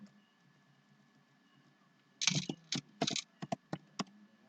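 Someone types on a computer keyboard while coding, a quiet room giving way to a burst of quick keystrokes and then several separate clicks, close and clear, with no talking.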